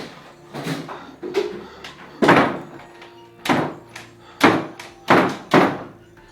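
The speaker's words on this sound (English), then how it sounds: "the door is opening and closing violently on its own" A bathroom door bangs open and shut again and again, about seven loud, close thuds and slams at uneven intervals, each one ringing briefly, with no talk.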